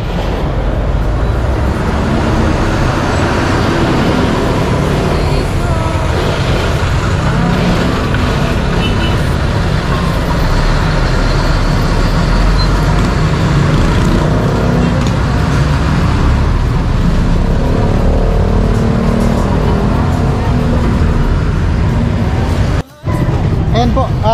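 Busy street traffic at night in the Philippines, a dense, loud wash of passing cars and engines rumbling close by without a break, with voices mixed into the roar.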